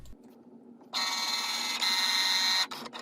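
A Cricut Maker cutting machine starts its cut after a quiet pause, breaking into a loud whirring, beeping motor tone that holds for under two seconds and then abruptly stops, leaving a few soft clicks.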